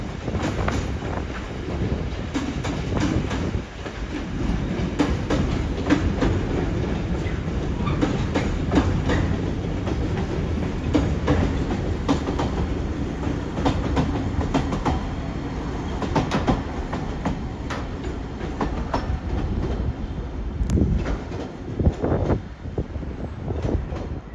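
British Rail Class 88 locomotive 88009 hauls a Daventry to Moss End Tesco freight train past at Carlisle, a loud sustained roar with clattering wagons and rhythmic wheel clicks, plus wind buffeting the microphone.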